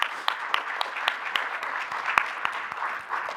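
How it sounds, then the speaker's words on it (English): An audience at a school advisory board meeting claps steadily for the schools, a sustained round of applause from a moderately sized crowd with scattered sharper claps close by. "Let's give all of our schools a round of applause."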